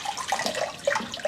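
Water pours into a cast iron crock over cooked cabbage, a close, irregular splashing and gurgling with bright bubbly bursts throughout.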